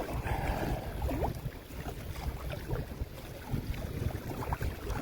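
Wind blows across an early-morning fishing spot on Newfoundland's west coast. Constant low buffeting rumble and gusty noise press on the microphone throughout, with faint splashy water texture and no voices.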